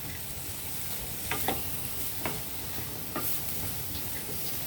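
Raw banana pieces with curry leaves and green chillies being stirred in a hot pan, a steady sizzle under a few soft scraping strokes.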